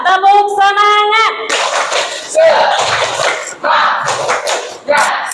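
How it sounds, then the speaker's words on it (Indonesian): Students in an 8th-grade classroom perform a rhythmic spirit clap, sharp bursts of hand slaps in patterned groups, mixed with loud children's voices chanting and shouting between the claps. "Tepuk semangat."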